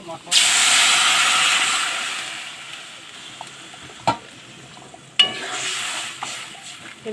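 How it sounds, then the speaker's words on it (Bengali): Water poured into a hot pan while cooking potatoes with salt bursts into a loud hiss of sizzling steam that slowly dies down, followed by a couple of sharp clanks and a second, shorter burst of hissing. "এবার আমি জল দিয়ে দেব"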